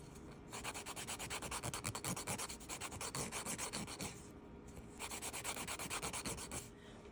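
A false nail being filed to round its tip, a close, steady rhythmic rasping of quick back-and-forth strokes with two short pauses and no talk.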